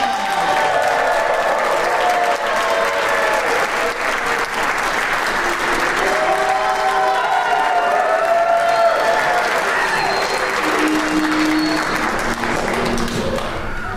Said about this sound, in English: please welcome with thunderous applause, GANYC President Michael Morgenthau